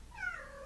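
A pet cat gives a single short meow, a quiet falling cry heard in a calm indoor room with no talk over it.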